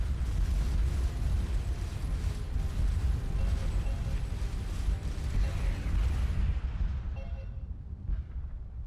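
Missiles explode in the space game Starcom Nexus as a run of heavy, rumbling booms that overlap into a continuous low roar, then cut off abruptly near the end, leaving a faint tail.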